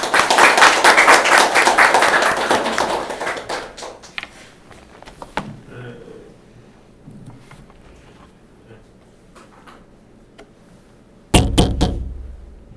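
A church congregation breaks into loud, sustained applause to welcome Pastor Yang, dense clapping that fades over about four seconds, then a quiet room with scattered knocks before a short, sharp burst of clapping near the end.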